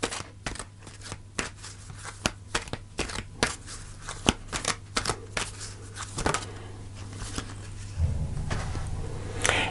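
Tarot cards are shuffled by hand during a reading, producing a close series of crisp, irregular snaps and flicks that build to a denser riffle near the end, with no talk.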